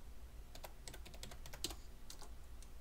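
Quiet, irregular tapping of fingers on a computer keyboard, with scattered individual keystrokes and short bursts of rapid typing close by and no voices.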